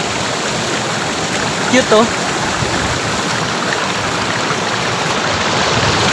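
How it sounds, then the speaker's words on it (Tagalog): A small waterfall at Talon Pari Falls in Bulacan gives a constant, close rushing and splashing of water, with a brief spoken word heard over it. "May isang falls pa dito na cute."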